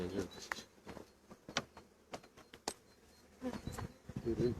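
Honeybees buzz around an open hive during a spring inspection, a faint hum that comes and goes near the microphone, with clicks and handling noises of the frames and a person talking.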